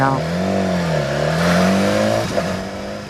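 A 2016 BMW S1000XR motorcycle engine drones close up while riding, a strong steady hum whose pitch dips and rises with the throttle, with wind rushing over it.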